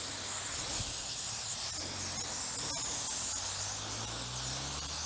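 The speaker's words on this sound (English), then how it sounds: "I'm going to give them a quick rinse off" A water spray rinses freshly dug potatoes, a faint, steady hiss of spraying water running continuously with a low background rumble and no talk.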